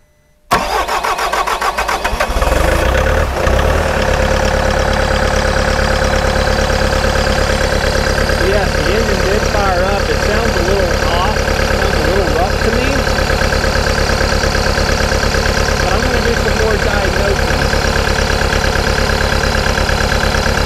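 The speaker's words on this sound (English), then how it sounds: "let's go ahead and see if the engine will fire up." A Bobcat T740 diesel engine cranks briefly and fires up, then settles into a steady, loud idle that runs on alone for about eighteen seconds after a repaired number two injector and rail pressure fault.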